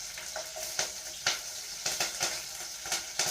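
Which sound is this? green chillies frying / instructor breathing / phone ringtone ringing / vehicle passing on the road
green chillies frying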